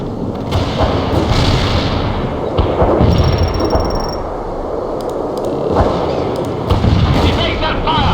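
Tank and artillery gunfire in the real-time strategy game World in Conflict, with loud, dense, overlapping booms and shots repeating through an unbroken battle din.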